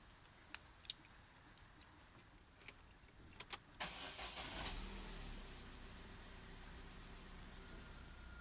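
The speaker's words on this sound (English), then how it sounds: "And then start the car." A Vauxhall Zafira B car engine starting after cambelt replacement, with a few faint clicks, then a brief starter crank that catches into a steady idle that continues to the end.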